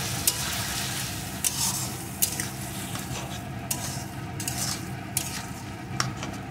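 Eggplant cooks in a pan with turmeric and salt for begun bharta: a gentle continuous sizzle broken by regular scrapes and taps of a spatula stirring.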